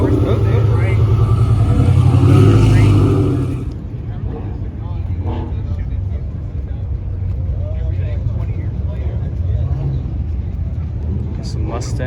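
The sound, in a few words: Ford Mustang cars revving and driving past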